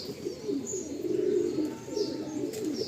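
Giribaj pigeons coo in a loft, a soft repeated low warbling close by, with a few faint chirps in the background.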